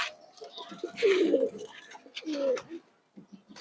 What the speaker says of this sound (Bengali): এই যে এখানেও কবুতরগুলো মাশাআল্লাহ অনেক সুন্দর।